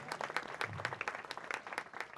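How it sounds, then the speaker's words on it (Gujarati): Devotees at a Shakotsav gathering of the Kutch Kadva Patidar Satsang Samaj in Valsad clap together in sustained, fairly faint applause, a dense patter of many hands with no break. "તો જજમાન પરિવારને એકવાર તાળીના નાદથી ભક્તજનો વધાવીએ"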